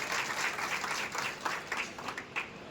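An audience claps loudly to welcome the officials of a Punjabi helpline trust at an awards ceremony honouring social service and journalism, a dense burst of hands with a few sharper individual claps as it thins toward the end.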